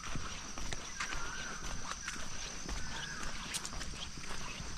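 Horse hooves clip-clop at a steady walking rhythm while the horse is ridden outdoors. The hoofbeats are faint and distant against a soft hiss of background ambience, and there is no talking.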